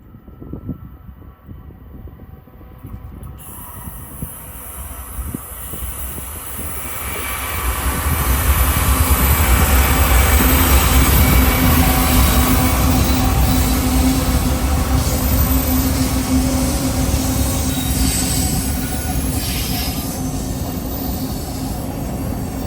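A mixed manifest freight train, hauled partly by a Mexican Ferromex locomotive, glides downgrade, its rumble swelling as it draws near and then holding steady, with squealing wheels and rolling rail clatter continuing to the end.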